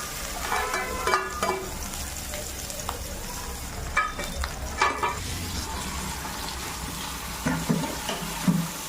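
Onions fry in a hot pan with a steady close sizzle, broken by a few sharp clatters and stirring scrapes, and brief quiet speech drifts in now and then.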